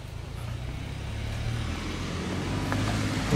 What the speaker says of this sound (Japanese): 車めっちゃ通るね